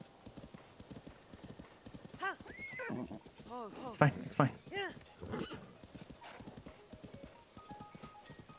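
Horse hooves clip-clopping in the video game The Legend of Zelda: Tears of the Kingdom, a steady rhythmic trot with a whinny midway, under a player's voice talking.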